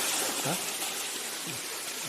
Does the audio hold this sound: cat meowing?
no